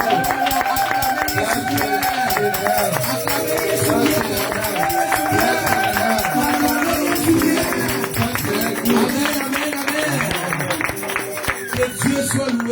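A church congregation at a Sunday service cheers and acclaims loudly and continuously, a dense crowd roar with clapping and shouts running throughout, over music.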